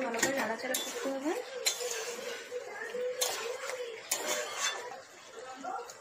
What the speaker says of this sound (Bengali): চিনিটা দেওয়া হয়ে গেছে, এখন একটু ভালো করে নাড়াচাড়া করতে হবে।